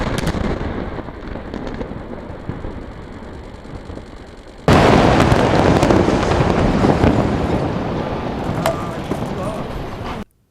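Blast demolishing the inter-Korean liaison office building in North Korea: a steady distant rumble, then a sudden loud explosive roar that holds for several seconds before cutting off.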